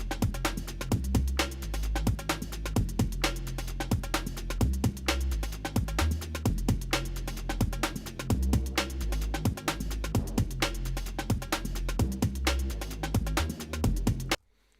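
Breakbeat groove of bass and drums programmed in Ableton Live, with a steady, punchy drum pattern over a heavy low bassline, loud and continuous until it stops abruptly at the end.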